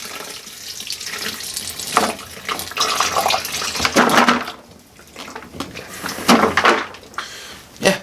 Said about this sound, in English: just pour the liquid in here first